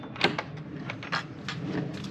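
A wooden door inside a chicken coop swings open, giving a soft scraping creak with faint knocks, close by and fairly quiet, with no talking.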